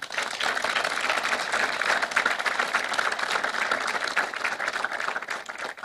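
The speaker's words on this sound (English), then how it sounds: "give a round of applause to our community" Steady, dense applause from a large crowd at a medical school white coat ceremony, with many hands clapping together for the full stretch without pause.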